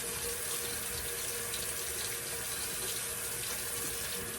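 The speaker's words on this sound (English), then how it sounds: "Now I need to wash my hands again" Tap water runs steadily into a sink during hand washing in a home kitchen, a continuous close hiss and splash with no talking.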